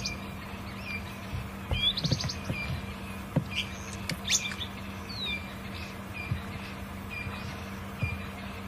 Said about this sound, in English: there's a lot of birds calling at the moment.